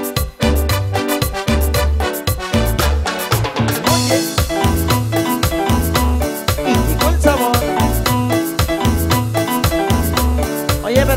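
Live Colombian keyboard popurrí played for dancing, a full electronic band sound with thumping bass, steady percussion and bright melodic lines running continuously and loud throughout.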